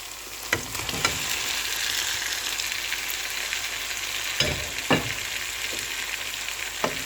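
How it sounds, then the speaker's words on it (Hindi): Chicken cooking with boiled rice in a pot over a medium flame for chicken tikka biryani, a steady close sizzle broken by a few sharp spoon scrapes and knocks as everything is stirred together. "चिकन डाल के मिक्स करके अब चिकन को 2-3 मिनट के लिए पकाएंगे।"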